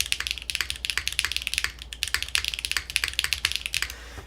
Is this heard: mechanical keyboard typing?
yes